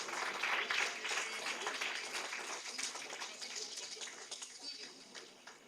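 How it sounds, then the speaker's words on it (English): Award ceremony audience applause at the Ecofluence 3.0 event at Indus Business Academy, Kanakapura, a fairly quiet stretch of clapping that peaks early and gradually thins, with some voices mixed in. "A huge round of applause for Digambari Kannan."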